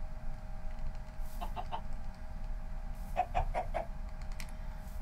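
A chicken in Minecraft TerraFirmaCraft clucks in two short bursts, first three quick notes and then four more, clear over a low background hum.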